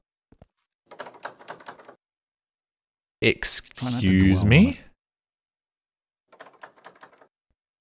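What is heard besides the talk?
Half-Life 2 door sound effect from a video game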